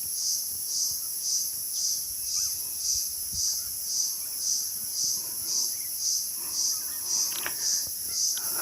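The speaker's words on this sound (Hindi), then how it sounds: "हमारे जंगलों में जानवर और छोटे छोटे जो भी कीड़े मकोड़े और पशु पक्षी होते हैं, उनका चहचहाना सुनो।" In a forest beside farm fields, insects chirp in a steady, pulsing chorus, with faint, sparse bird calls now and then in the background.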